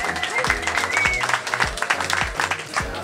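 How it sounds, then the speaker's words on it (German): Audience applause for the top three teams at a games festival in Friedberg, clapping steadily through the whole stretch while an announcer's voice runs over it. "Nochmal riesen Applaus an unsere 3 Erstplatzierten."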